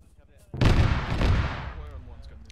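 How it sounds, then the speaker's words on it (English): Heavy explosions boom through an Arma military video game battle in the woods, a loud blast at about half a second followed by rolling, rumbling gunfire and artillery-like reverberation that slowly fades. "I hear heavy explosions."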